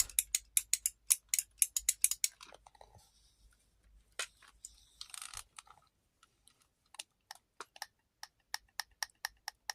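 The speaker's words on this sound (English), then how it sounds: "there's a leaf switch inside this one. You can hear that." Repeated sharp clicks come from the leaf switch inside a Quickshot II Plus joystick. The bursts of rapid clicking are close and crisp, separated by short pauses and scattered single clicks.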